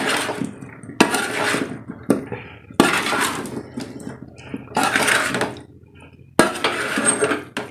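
Loobica pickle being stirred with spices in a vessel, bursts of clattering, scraping and clinking of utensil against container separated by short pauses, close and loud with no talking.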